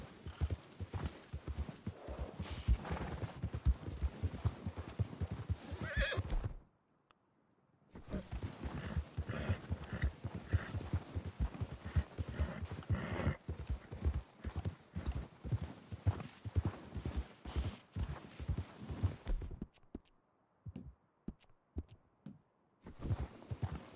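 Horse hooves clip-clop steadily in the Red Dead Redemption 2 video game, a fast, even rhythm of soft thuds that runs throughout, broken by two brief silent gaps.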